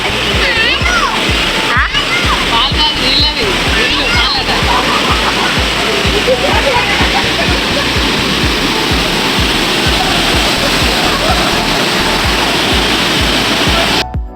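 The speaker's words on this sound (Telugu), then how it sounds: "అక్కడి వాటర్ చూసారా కింది ఆ బ్రిడ్జి కింది నుండి వెళ్తున్నాయి" Loud, continuous roar of water released from Nagarjuna Sagar dam rushing and splashing heavily under a bridge, a dense steady torrent close by.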